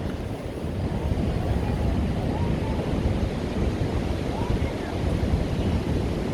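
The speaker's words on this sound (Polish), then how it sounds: "Woda rozbija się od skały." Ocean waves crash against rocks on the coast of Iceland, a loud continuous roar of surf mixed with gusting wind buffeting the microphone.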